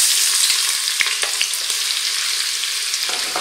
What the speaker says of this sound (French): Je les fais revenir pendant 2 minutes, le temps de la coloration